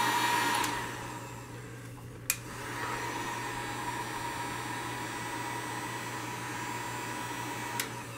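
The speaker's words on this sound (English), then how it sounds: "if you use a heat gun, especially if you have cheap Chinese glass, it won't crack it" Cheap Harbor Freight heat gun blowing hot air, a steady close whooshing hum that runs throughout with a couple of faint clicks.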